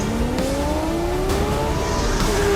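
Porsche Carrera GT with its racing-derived engine, a loud high-pitched wail climbing steadily in pitch as it accelerates hard through the gears, one continuous smooth rising scream with no talk.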